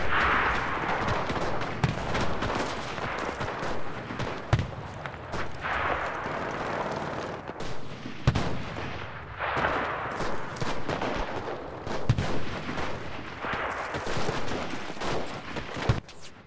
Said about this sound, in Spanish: oigo disparos aquí delante